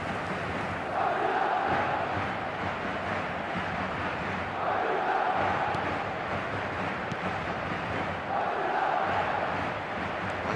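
A virtual football stadium crowd in eFootball 2026 roars in a continuous dull wash, swelling in a few chanting surges between quieter stretches, with no talk over it.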